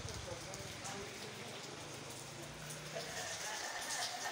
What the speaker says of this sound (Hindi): आज तेज़ बारिश आ रही है, बड़ी ज़ोर के साथ बारिश आ रही है